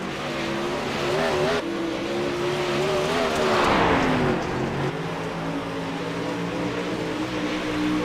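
The number 33 race car on track at night, its engine a loud continuous drone that rises and falls in pitch as it accelerates and shifts, steady and close throughout.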